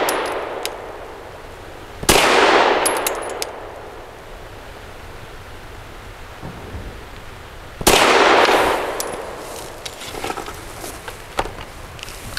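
A Stoeger STR-9S pistol firing 100-grain lead-free ball ammunition at a shooting range: two sharp, loud shots several seconds apart, each ringing out briefly, with faint metallic clanks in between.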